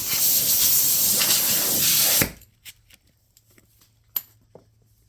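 Compressed air blasts across a car body panel during rust repair on a 2018 Ford Escape, a loud steady hiss for about two seconds that cuts off abruptly, followed by faint clicks and handling noises in a quiet shop.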